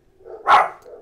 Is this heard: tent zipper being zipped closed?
no